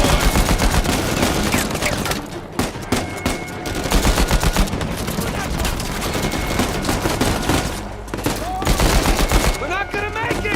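Heavy automatic gunfire from a firefight in the video game Uncharted 4, dense bursts and volleys rattling almost nonstop, loud and close, with shouted voices breaking through in places.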